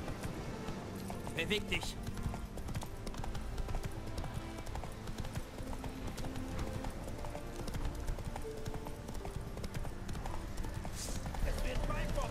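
Horse hooves clatter at a gallop in The Witcher 3, a continuous rhythmic clip-clop under game sounds while someone talks in German.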